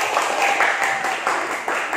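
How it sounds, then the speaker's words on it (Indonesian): Pupils in a classroom clap their hands together in a dense, continuous burst of applause, close and fairly loud for about two seconds. "Tepuk tangan dulu ya"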